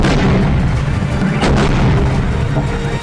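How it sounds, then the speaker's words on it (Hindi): Missile strikes hitting Donetsk in a rapid series, heavy booming blasts and rumbling detonations layered over one another, loud and continuous with sharp bursts standing out, no voices. "यह उस वक्त का वीडियो है जब डोनेस्क पर एक के बाद एक 6 मिसाइलें गिरी"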